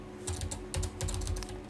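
Quick, light keystrokes on a computer keyboard form a short burst of steady clicking, close and quiet, with no voices.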